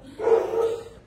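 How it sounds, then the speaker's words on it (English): A dog gives a single short, close bark-like yelp inside a home, clear and alone in a quiet room. "I think the dogs are ready for a walk."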